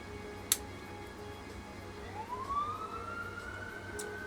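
A faint, distant siren rises in pitch and wails softly in the background over low ambient hum, with a single brief click near the start.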